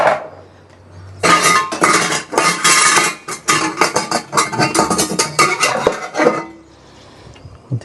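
Steel plates and ladles clatter and clink together inside a large bucket in a series of loud, dense metallic bursts, each a few seconds long, with brief quiet gaps between them.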